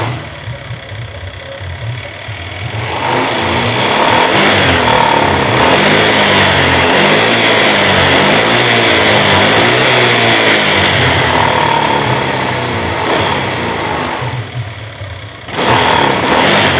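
A Honda Vario 150 scooter engine revs while cold, rising from a steady idle into a long, loud sustained rev lasting several seconds before dropping back, with a brief uneven stutter near the end.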